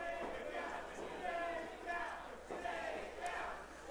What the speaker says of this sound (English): You can hear the crowd telling Truex to stay down